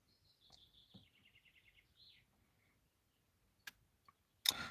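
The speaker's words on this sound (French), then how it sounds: "Vous entendez les oiseaux là qui s'apprêtent à aller se coucher?" Several small birds chirp and trill in short bursts at dusk against a quiet background, with a few sharp clicks and a louder rustle at the end.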